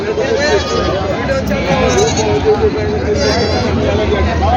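Goats and sheep bleating at a busy livestock market in Parbhani, Marathwada, repeated wavering calls close by over a dense crowd babble and chatter.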